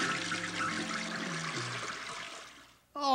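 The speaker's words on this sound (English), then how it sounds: "The message went down the drain, Toad!" Cartoon bathwater gurgles and swirls down a tub drain in a steady sloshing rush that tapers off, then a voice cuts in at the end.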